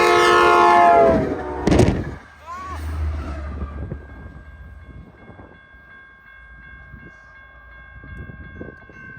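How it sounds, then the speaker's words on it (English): A Trinity Railway Express commuter train led by a cab car sounds its horn loudly as it nears at track speed, then a sharp bang and a fading roar of wheels as it passes and recedes. "with cab car number 1006 charging towards the medical market and downtown districts at track speed"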